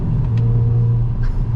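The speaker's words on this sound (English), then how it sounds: "if I downshift, it actually rev matches" Steady low engine drone from a Hyundai i20 N Line with a brief rise as it rev-matches on a downshift, heard from inside the cabin while driving a coastal road.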